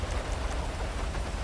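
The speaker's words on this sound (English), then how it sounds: "I really don't want to be sitting out here in the rain." Steady rain falls in the GTA V video game, a dense even patter of drops on surfaces with no voices over it.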